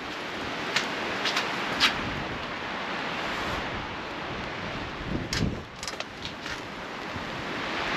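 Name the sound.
strong wind blowing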